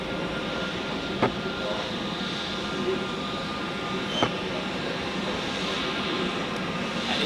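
Swiss Airbus A320neo taxiing at Zurich Airport after landing, a steady mid-distance engine hum with a couple of brief clicks, no talk.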